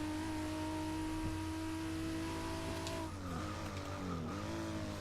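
A Supra race car in Forza Motorsport 6 running in fifth gear: a loud, sustained engine drone whose pitch holds and then dips and wavers as the car turns, with faint tire noise and no talking.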